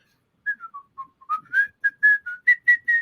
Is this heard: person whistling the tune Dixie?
yes